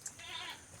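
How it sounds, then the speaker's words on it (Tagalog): A farm goat gives a short, faint, wavering bleat, close by, with light background noise and no talk over it. "Ang alaga natin kanding dito."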